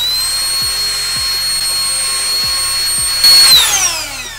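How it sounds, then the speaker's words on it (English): A handheld X3 Hurricane electric air blower whines at high speed while blowing dust out of a Nintendo Switch console, a loud, steady tonal whir with rhythmic pulsing that swells into a harsher rush near the end. "I'm gonna blow this thing 260 miles an hour air down in the Switch and hopefully it cleans it out."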